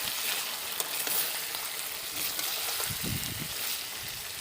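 Meat frying in oil over a fierce stove flame while being browned for a curry, a steady close hiss and crackle of sizzling throughout with no talk.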